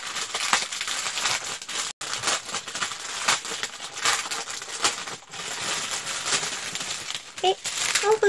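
Items being unpacked from a haul package, crinkly plastic and paper rustling with small clattering handling noises, continuous and close, with brief speech in the background.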